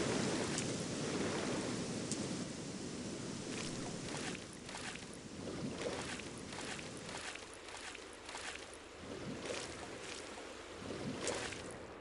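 Boat moving across water in the video game Gothic, a continuous wash of water and wind with rhythmic splashing strokes, fairly quiet and steady.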